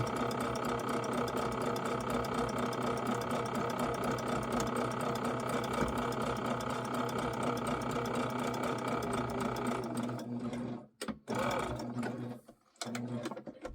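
A sewing machine hums and clatters steadily up close while stitching along the edge of appliqué fabric, running continuously before stopping, with a few handling clicks after.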